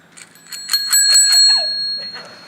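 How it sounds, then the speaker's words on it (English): A bicycle bell used as a noisemaker at an event, rung in a rapid run of about six bright metallic dings followed by a ringing tail and one faint later ding, loud and near. "I got the bike. Bell."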